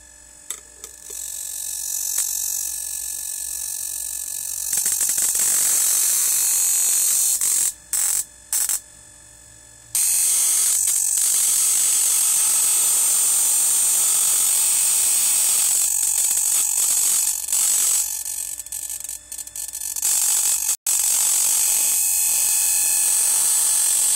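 Two high-voltage transformers running together give a loud, steady electrical buzz with a sharp crackle of arcing, broken by a few abrupt cutouts and short gaps in the sound.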